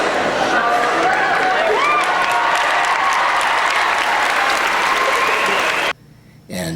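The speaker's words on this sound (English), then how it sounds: "slowly you heard it, the applause." Audience at a 20th high school class reunion breaks into loud, sustained applause with some voices mixed in, running steadily for about six seconds before stopping abruptly.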